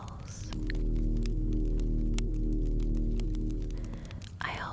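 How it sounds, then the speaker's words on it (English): A low, steady magical portal hum drones throughout at moderate volume, layered with soft faint clicks and light handling sounds in a quiet fantasy setting. "Sometimes I just sit here listening to the hum, making tiny adjustments until everything settles."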